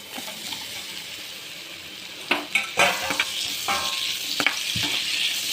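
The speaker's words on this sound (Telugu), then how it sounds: "ఒక ప్యాన్ అయితే పెట్టుకొని ఇందులో ఆయిల్ అయితే వేసుకొని ఇక్కడ టమోటో ఆనియన్ ఇవన్నీ బాగా మగ్గించుకోవాలి" Tomato, onion and green chilli sautéing in oil in a pan, a steady soft sizzle with a few clinks and scrapes of stirring partway through, no talk.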